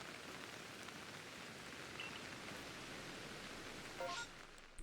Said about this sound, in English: now I hear raindrops